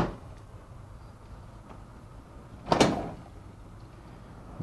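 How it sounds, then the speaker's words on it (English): A single short, sharp click near the middle, set against a quiet room hum, as a plastic aquarium drawer snaps into place on its sliders. "push it in position until you hear a click."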